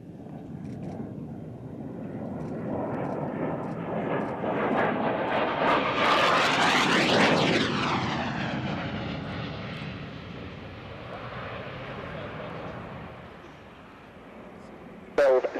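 Harrier jet flying a display at Kemble Airshow in 2006, its loud engine roar swelling as it passes close overhead then fading away, with a commentator talking over it throughout.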